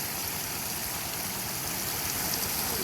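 Water pours continuously over a weir at a waterfall, a dense, steady rushing roar close by and unbroken throughout, with no voices.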